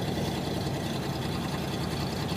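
Land Rover Discovery 2 with a 4.6 V8 engine idling at close range, the exhaust blowing and in need of new catalytic converters, giving a continuous dense rumble with a steady, unbroken texture.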